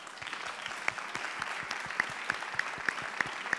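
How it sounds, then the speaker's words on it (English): Steady applause from an audience, dense clapping filling the whole stretch with a few sharper individual claps standing out. "I would like to welcome her with a warm applause"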